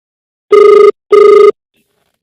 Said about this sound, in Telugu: నందిత గారికి ఫోన్ చేస్తున్నాడు రాజేష్.